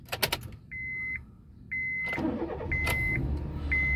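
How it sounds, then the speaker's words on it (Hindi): A Honda City 1.3 automatic sedan starts up: a short crank catches into a steady low engine idle, punctuated by a repeated electronic chime beeping at regular intervals, close and fairly quiet. "let's start the car and here the sound of the engine"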